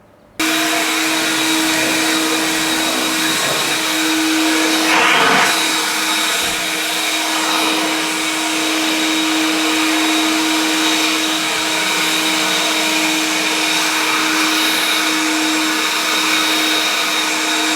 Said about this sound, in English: Next thing I do is I vacuum my whole garage floor with this old vacuum cleaner.